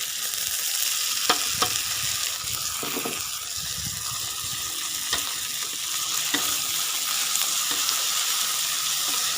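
Mlanding (lamtoro) stir-fried with anchovies in spices, a steady close sizzle with occasional sharp scrapes and clinks of stirring throughout, no voices.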